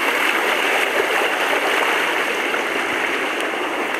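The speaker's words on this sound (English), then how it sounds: "Oh no, this is very fast moving water." Fast-moving creek water near Browns Falls rushing over rocks, a steady, loud broadband roar and hiss close by, constant throughout with no voices.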